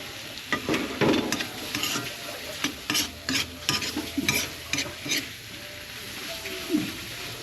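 Bitter gourd and egg sizzle in a frying pan while a utensil stirs and scrapes in quick irregular bursts, close and fairly loud, with the frying hiss continuing beneath.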